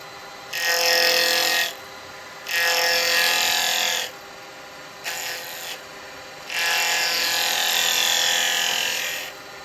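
A round carbide chisel cuts into spinning wood on a lathe in four bursts of harsh hissing shavings, the third short and quieter, with gaps of faint motor hum between them.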